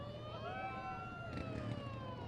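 A siren at a Christmas parade in Bakersfield, a wailing, sweeping tone rising and falling over crowd and street noise, moderately distant and fairly faint.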